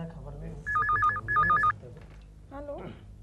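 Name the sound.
telephone ringing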